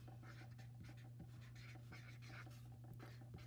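Marker writing a title onto a classroom anchor chart, a soft continuous scratchy stroking heard up close, with a steady low hum throughout and no talking.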